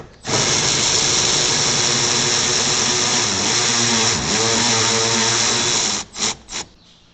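A power tool whirs loudly and steadily up close as it spins off a nut under the hood of a fourth-generation Dodge Ram near the AC expansion valve. It stops, then gives two short final bursts.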